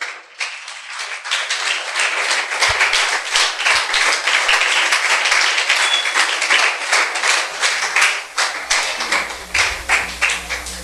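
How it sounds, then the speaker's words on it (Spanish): A congregation at a church service claps and applauds loudly and steadily for about ten seconds, dense and continuous with a rhythmic pulse, with faint low thumps beneath. "Dale un fuerte aplauso al Rey."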